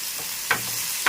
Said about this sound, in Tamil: பாருங்கள் கடுகு பிடிச்சிச்சு இப்போ நான் கருவேப்பிலை போடுறேன்